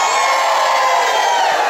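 A crowd at a hotel farm festa junina shouts and cheers together, a loud sustained roar of voices that stays steady throughout.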